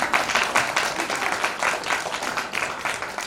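An audience at a birthday celebration claps steadily, dense and sustained applause filling the room with a faint voice underneath.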